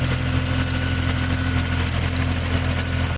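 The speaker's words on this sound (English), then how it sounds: "I'm not too worried about a little squeak up here with a belt or pulley or something" A Jeep engine runs at a steady idle with a faint thin squeak from a belt or pulley riding over the low, even hum, no voices.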